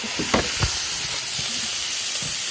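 Butter melts and sizzles in a pan beside a steak, giving a dense, continuous hiss with a few soft pops and bubbling bursts, close and steady throughout.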